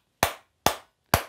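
Three sharp, evenly spaced claps from a toy monkey in a haunted escape room, each a loud, crisp smack with a short fading tail, heard alone with no talking.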